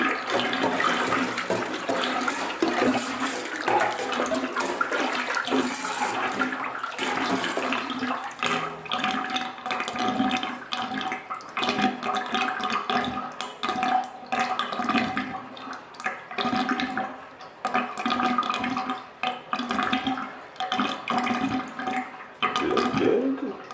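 Muddy bath water swirling and gurgling as it drains away through a bathtub drain, with a steady rushing wash that stays fairly loud and continuous, broken by uneven surges and splashy bursts of stirring.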